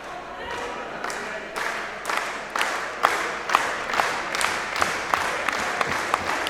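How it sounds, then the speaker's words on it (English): Wrestling crowd at a women's match clapping along in a steady rhythmic beat, claps sharpening and growing louder over several seconds beneath a general arena murmur and commentary. "Crowd clapping along, some of them at least, trying to get Luna to her feet"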